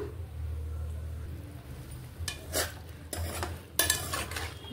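Chicken simmers in a pot and is stirred, with a low steady bubbling hum and a few close scrapes and clinks of a spoon against the metal toward the end.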